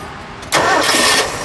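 A 1967 Mercury Cougar GT hardtop with a 390 engine and four-speed sits idling, then surges into a loud, brief burst of engine roar lasting under a second before easing off.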